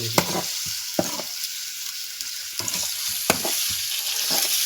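Fish frying in a spiced masala gives a constant bright sizzle, broken by several sharp stirring scrapes and clacks of a utensil against the pan, close by, with no speech.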